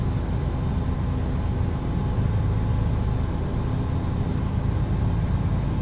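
A heavy truck engine runs in American Truck Simulator, a steady low diesel drone with a faint turbo note, holding at low revs near peak torque around 900 RPM throughout.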